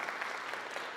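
An audience claps in thanks for attending a Justice Day community gathering, the applause steady and dense with no gaps, filling the whole short moment at an even loudness.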